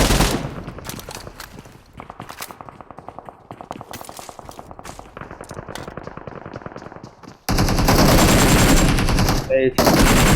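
Bursts of rapid automatic gunfire from the mobile battle-royale game BGMI (PUBG Mobile), loud and close, with repeated volleys and a denser, sustained barrage near the end.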